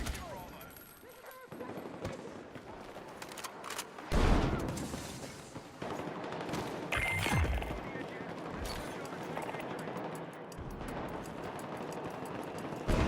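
Gunfire in a shooter video game crackles in bursts and sharp cracks over a dense, noisy battle backdrop, fairly faint overall, with voices calling out amid the shooting.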